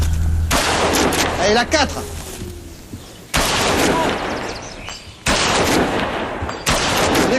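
Prison officers fire guns during firearms training, with loud close bursts of rapid gunshots in several separated volleys, and a man calls out short commands in French between them.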